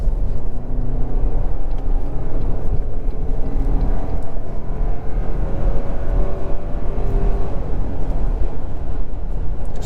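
A 2023 Toyota Highlander with a 2.4-liter turbocharged four-cylinder pulls hard under acceleration, giving a steady, loud low rumble and rising engine drone with no voices.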